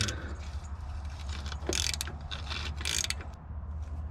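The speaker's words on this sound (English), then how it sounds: "There is a hole here with a nut in it, and we're gonna take that off so that the sway bar can be disconnected from the lower control arm." A ratchet wrench removing the nut that joins the sway bar to the lower control arm of a Toyota pickup: close, steady runs of rapid clicking pawl ratcheting with metallic jangles, and no talking.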